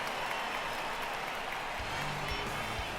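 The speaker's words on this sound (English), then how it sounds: "There's a lot of clapping." Steady applause from a stadium crowd in the baseball video game MLB The Show 19, a dense, continuous wash of clapping that fills the whole stretch without a break.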